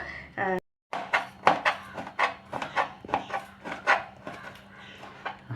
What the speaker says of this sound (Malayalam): നല്ല സ്പീഡിലാണ് നാരങ്ങ അരിയണത്